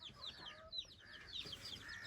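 Hens cluck softly in a farmyard, a faint string of short, quick clucks and murmurs with no talking.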